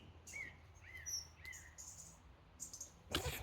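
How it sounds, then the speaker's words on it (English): Several short bird chirps and rising whistled calls repeat against a faint outdoor hiss, ending with a brief rustling burst. "So many birds. Goddamn, they're kind of loud."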